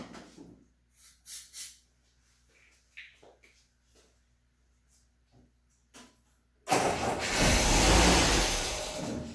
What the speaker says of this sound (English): I went to turn the motor over and it fired up